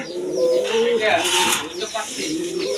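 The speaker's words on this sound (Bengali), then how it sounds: "দেখেন পাঙ্কি কবুতর" Fancy pigeons coo in a loft, low throaty calls repeating through the clip over steady background chatter of birds, with a voice speaking nearby.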